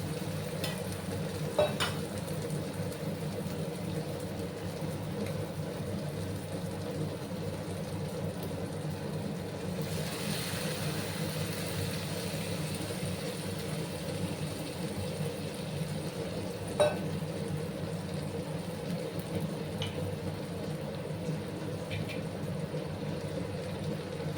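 A mustard and poppy seed paste for egg curry sautés in a pan, giving a steady soft sizzle with occasional stirring clicks of a spoon, no voices.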